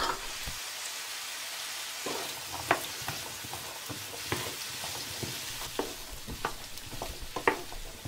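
Rice and vegetables, with celery added last, stirred together in a cooking pot, giving a steady sizzling hiss broken by scattered spoon scrapes and clinks; close and moderately loud, with no voices.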